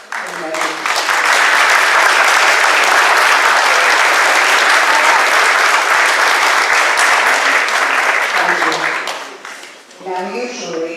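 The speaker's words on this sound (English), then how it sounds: "So we could please have a round of applause for them." An audience at a chorus concert in a church breaks into loud, sustained applause lasting about eight seconds, with speaking voices just before it begins and again as it fades.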